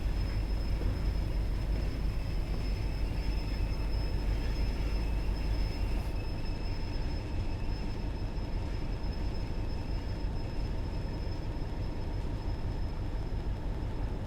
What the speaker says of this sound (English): I don't mind the train, but I don't like the brakes.